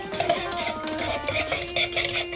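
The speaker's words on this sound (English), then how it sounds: "and give it a stir" Turkish coffee being stirred in a small pot over the fire, a soft continuous scraping and swirling with faint metallic tinkles, close and fairly quiet, with an airy background hum.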